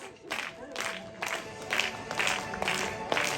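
An audience at a ceremony honouring Siberian mentors breaks into applause with cheers, bursts of clapping and shouts swelling and pulsing across a lively hall.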